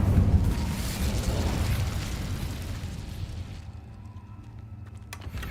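A fire spell erupts with a loud burst of flame in Hogwarts Legacy, a dense roaring whoosh that gradually fades over several seconds, ending in a quieter crackling tail.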